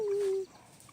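A Silkie chicken gives a single loud, sustained squawk for about half a second, alone, with a quiet coop and no talk afterward.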